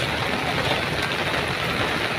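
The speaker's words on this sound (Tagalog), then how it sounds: "Lakas ng ulan." Heavy rain pours down steadily outdoors, a dense continuous hiss and patter that stays loud and even throughout with no talk over it.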